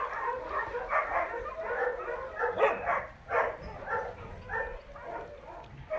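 A dog barks and yips in short repeated bursts at moderate distance, mixed with whimpering, the calls spaced irregularly across several seconds against a quiet background.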